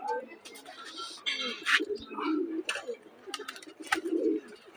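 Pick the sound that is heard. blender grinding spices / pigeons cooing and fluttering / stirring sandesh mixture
pigeons cooing and fluttering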